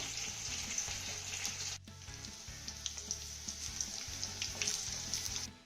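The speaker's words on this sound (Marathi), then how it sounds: "हा लसूण आपल्याला हलक्या सोनेरी रंगावरती परतून घ्यायचा आहे" Crushed garlic and fenugreek seeds fry in hot oil, giving a steady close sizzle with soft crackles and an occasional stir, and no talking.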